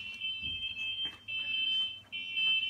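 A FastCAT timer gives its ready signal indoors: a steady, high-pitched electronic beep sounding in three long pulses with short gaps, over faint low room noise.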